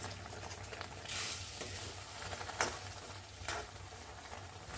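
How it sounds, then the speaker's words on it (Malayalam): Roasted semolina being stirred into upma in a pan, with soft scraping and gentle moist patter from a spoon. A few louder scrapes rise above a quiet bubbling simmer. "നല്ലപോലെ ഇളക്കി മിക്സ് ചെയ്തെടുക്കാം."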